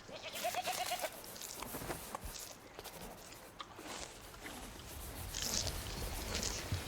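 Fly-speckled goats ridden by short bearded men in the video game Knock on the Coffin Lid bleat in a few faint calls over rustling footsteps and game ambience, with no talking.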